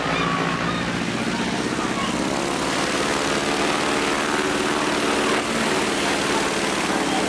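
A highly modified Alaskan bush plane flown by Dave King from Gulkana comes in to land, its propeller engine a loud, steady drone with a broad rushing wash that holds unbroken throughout.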